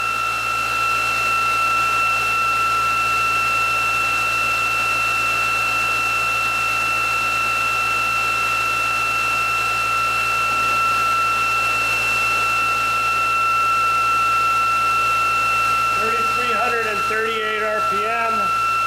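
Steady electric motor whine from the ReGen X Quantum Motor prime mover running at 560 watts and 3,485 RPM, an unbroken even tone with a brief voice entering near the end.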